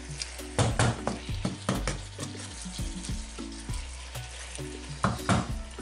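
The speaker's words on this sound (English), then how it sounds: "Yes, so I stir this together." Spiced turkey frying in a pan while being stirred, with a steady sizzle broken by repeated utensil scrapes and knocks against the pan, close and alone.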